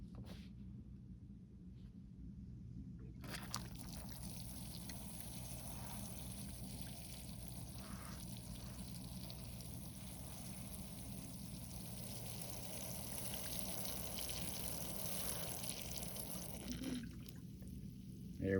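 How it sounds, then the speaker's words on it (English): Water pours steadily onto soil around a repotted eastern redbud tree in a container, a continuous soft splashing trickle that starts after a brief quiet moment and runs on faint and close. "So let's get some water on this thing."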